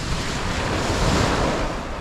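Waves break and wash steadily onto a deserted pebble beach at Sidmouth, East Devon, a constant loud hiss and rumble with wind blowing across the microphone.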